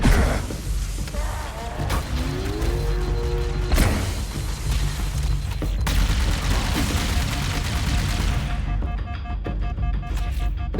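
Gunfire from weapons in the Halo video game, dense volleys and blasts mixed with game effects and sweeping tones, loud and continuous.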